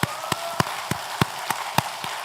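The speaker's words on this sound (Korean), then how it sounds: "감사와 영광의 박수를 한번 하나님 앞에 올려드립니다" A church congregation claps together in a steady rhythm, about eight sharp beats at an even pace, with no talking over them.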